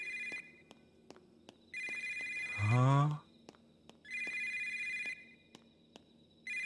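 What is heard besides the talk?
telephone ringing with digital tone in the video game Yomawari 3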